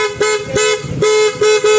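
Aftermarket loud horn on a Yamaha Aerox 155 scooter sounds in several sharp, loud blasts with short gaps, alone and close by.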